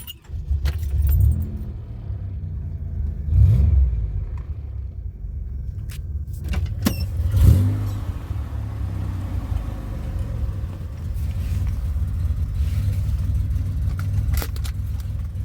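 A 2007 Pontiac Grand Prix on a test drive produces a steady, moderate engine and road rumble, with a few louder bumps and rattles from the cabin along the way.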